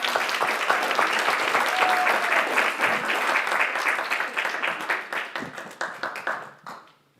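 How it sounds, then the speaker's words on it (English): A live audience at a civil rights panel event breaks into loud, dense applause that holds steady for several seconds and then thins out and fades to quiet. "Give a round of applause for Courtney Henderson."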